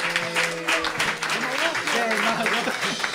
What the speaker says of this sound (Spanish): ¡Fuerte aplauso para Daniel!